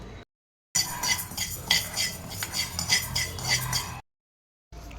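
Moong dal dry-roasting in a pan and stirred with a spoon, a close rattling scrape of grains and metal clinks over about three seconds, with short silent gaps before and after.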